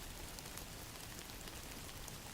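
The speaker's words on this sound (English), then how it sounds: "Outside, rain began again, thin and relentless." Thin, steady rain falls on a street outside, a constant soft hiss of drops with no pauses or other sounds.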